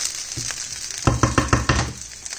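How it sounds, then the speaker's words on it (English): Fried rice with chorizo and soy sauce sizzling in a hot pan under a spatula stirring it, a steady frying hiss broken by several rhythmic scraping strokes close up. "I'm constantly stirring it the whole time"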